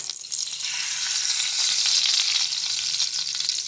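Ghee hitting a hot pressure cooker on a gas flame, a loud steady hiss and sizzle that swells slightly and holds throughout, close and with no voices.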